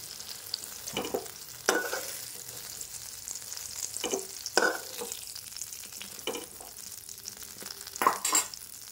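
Eggplant slices frying in hot oil in a home kitchen for begun bahar, a steady sizzle broken by several sharper bursts as pieces are turned and lifted out, close and moderately loud with no talk.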